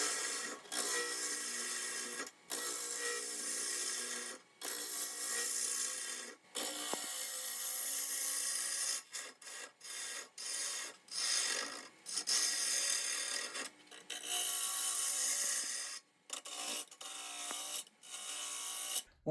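A wood lathe spins a wet-wood bowl at about 1000 RPM while a tool cuts, producing loud, close hissing and scraping passes broken by short gaps.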